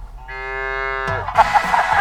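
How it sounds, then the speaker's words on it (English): A single long cow moo rises in pitch, followed by a burst of rougher noise, set in a Subaru Crosstrek Wilderness advertisement. "that's a cow."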